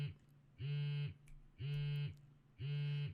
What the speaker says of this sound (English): What sounds like a cell phone vibrates nearby, but it's not mine.